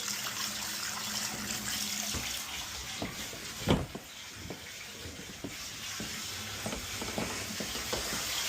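Water flows from a faucet through a hose while a fish tank is being changed, making a steady hiss and splash with a few sharp knocks and thumps over it.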